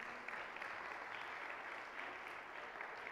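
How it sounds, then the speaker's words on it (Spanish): Steady applause from a church congregation fills the space, a continuous dense wash of clapping at a fairly quiet, distant level with no break. "un aplauso para ustedes"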